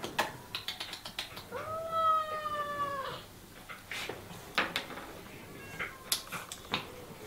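A cat at an animal shelter lets out one long, drawn-out meow in the middle, surrounded by scattered clicks and taps nearby.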